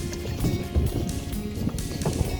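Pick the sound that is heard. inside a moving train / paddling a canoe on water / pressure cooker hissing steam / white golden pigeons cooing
paddling a canoe on water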